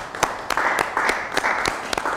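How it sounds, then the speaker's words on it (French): An audience applauds a guest on a French television show, a steady burst of clapping lasting a couple of seconds, with sharp claps standing out against the crowd. "On acclame pour Madame la joie."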